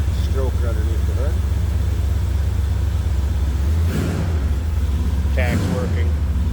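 A 1972 Chevrolet Malibu with a 383 stroker V8 rumbles steadily just after a cold start, a loud, close, low throb running the whole time while someone talks over it.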